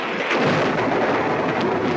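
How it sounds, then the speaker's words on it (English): Lightning strikes close by with a loud, deep rolling thunder rumble that fills the whole moment without pause. "it's lightning. It hit us."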